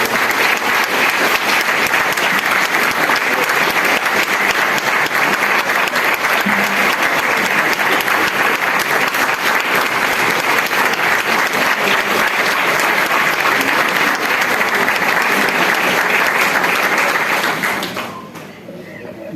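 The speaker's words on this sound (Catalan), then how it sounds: "Amb un fort aplaudiment" Loud, sustained applause from a hall audience at a spring concert by a retirees' choir rolls on steadily for many seconds, then abruptly fades to near quiet at the end.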